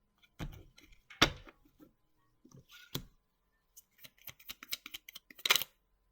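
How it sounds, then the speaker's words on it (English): Playing cards shuffled in quick bursts, sharp riffling flutters and taps separated by short pauses, close and fairly quiet with no talk. "I was literally just shuffling the cards back to back."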